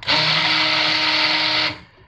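Stick blender whirring in soap batter for one sustained pulse of about a second and a half, loud and close, then cutting off abruptly.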